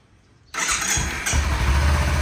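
A stock 2016 Kawasaki Z250 motorcycle with its original exhaust fires up after a brief quiet moment, then settles into a loud, steady, close-up idle with a rumbling low end.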